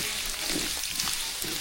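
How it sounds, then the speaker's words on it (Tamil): Semolina (rava) roasts in ghee for a Maha Shivaratri festival meal, giving a continuous soft hiss and crackle at close range, with a quiet voice now and then behind it. "நெய்யில வந்து ரவா வறுத்து எடுத்துக்கலாம்"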